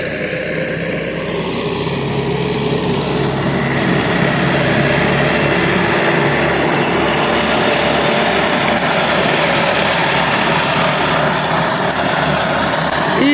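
Rotary mower on a new Kentavr tractor cutting grass for hay, a loud steady drone of engine and spinning blades running continuously and close throughout.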